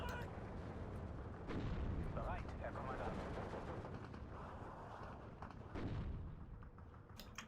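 Battle sounds from the video game Steel Division 2: a dense, continuous barrage of artillery booms and rattling gunfire, rolling and overlapping throughout with sharper distant cracks scattered on top.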